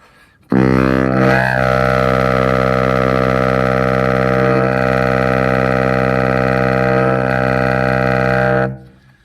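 A low, buzzy baritone saxophone multiphonic held for about eight seconds, loud and close, with a slight wobble before it cuts off.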